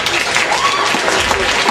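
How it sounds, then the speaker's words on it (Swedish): A crowd gives warm, loud, continuous applause at close range, a dense wash of clapping throughout. "säger en varm applåd tycker jag"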